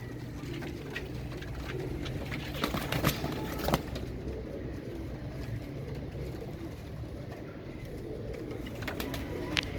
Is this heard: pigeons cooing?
yes